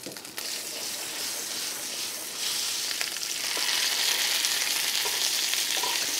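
Meat browning in butter in a pan sizzles in a continuous hiss that grows louder partway through, with no talking over it.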